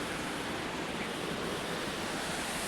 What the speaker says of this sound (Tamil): சவுண்டை பார்த்தீங்களா? தண்ணி சவுண்டு.